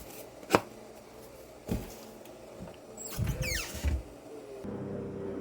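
Broccoli being cut for a salad gives a few sharp, separate knife taps on a board, spaced irregularly, with softer rustling and handling in between at close range.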